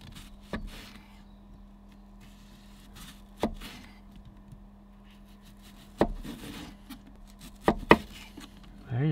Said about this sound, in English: I'm gonna cut this quite thin